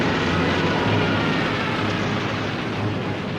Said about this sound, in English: But Nazi planes bomb Allied positions daily.